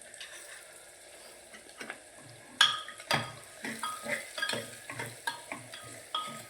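Valor bean curry being stirred in a pan, with a utensil scraping and clinking against the metal in uneven strokes under a soft, steady sizzle, close and moderately loud, with no voices.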